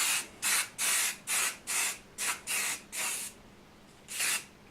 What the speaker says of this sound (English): It's a little clear conformal coating spray.